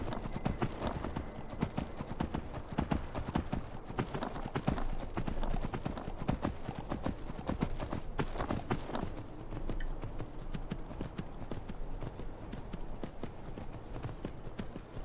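Horse hooves clip-clopping steadily while riding in the video game Skyrim, a fast continuous rhythm of hoofbeats that stays close and even throughout, with faint speech now and then.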